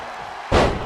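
A WWE 2K22 cage match takedown ends in a single heavy slam, a sharp loud thud that bursts out of a faint crowd hum midway through.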